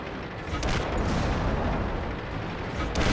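Tank cannon fire and the explosion of a destroyed tank in an online tank battle game, a dense, continuous rumbling roar of booms and blasts filling the whole stretch at close, loud level.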